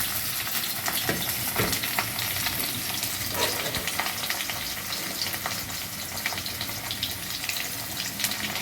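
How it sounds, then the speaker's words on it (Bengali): Potato pieces frying in oil with turmeric and salt for a fish egg fritter curry, a soft continuous sizzle broken by scraping stirs and clinks, fairly faint and close, with no voices. "আলুগুলো হলুদ নুন দিয়ে ভেজে নেব"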